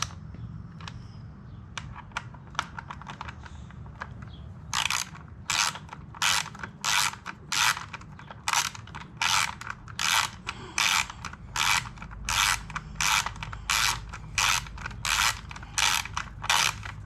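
A ratchet wrench tightens bolts on a 2021 Honda Rebel 1100 DCT motorcycle, quiet clicks at first, then a long run of loud, evenly spaced ratcheting strokes close by.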